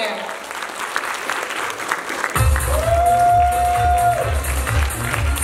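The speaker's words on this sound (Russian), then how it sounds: "Громче, громче, громче аплодисменты!" Applause and cheering from an audience at a children's stage performance show, the clapping carrying over a steady hum and a sustained tone, with a voice heard over it.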